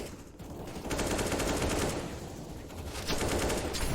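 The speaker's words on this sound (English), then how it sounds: "Shots exchanged towards mid." Bursts of rapid automatic gunfire in a Counter-Strike esports match on the Dust 2 map, a dense crackling exchange heard loud and continuous, with no voices.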